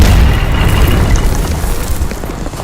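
A heavy, rumbling artillery shell blast, Israeli army shelling in Lebanon, with a booming low-end roar that slowly decays into a noisy, crackling tail.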